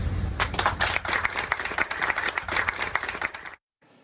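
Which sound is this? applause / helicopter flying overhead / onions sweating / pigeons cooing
applause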